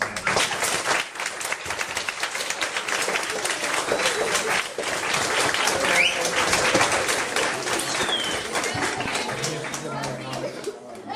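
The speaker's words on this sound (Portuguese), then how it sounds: "E salve palmas." Warm applause from an audience at a book launch and first presentation, brisk and continuous for over ten seconds with some chatter and laughter mixed in.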